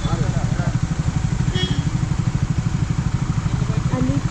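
Several motorcycles on a long drive-in beach, one engine idling nearby with a steady, low, rapid throb that runs the whole time, with voices talking over it.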